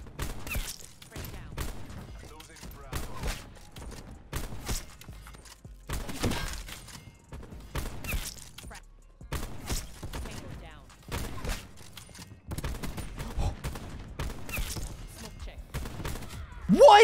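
Rapid gunfire in the shooter game Call of Duty: Black Ops 4 comes in dense, repeated bursts across the whole stretch, with a player talking excitedly over the shots.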